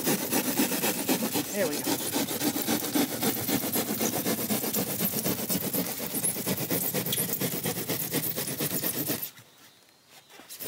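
A hand saw cuts through rigid foam board set on rock or concrete with a steady, rapid back-and-forth rasp. The strokes run close and loud for about nine seconds, then stop, and a voice speaks briefly at the end.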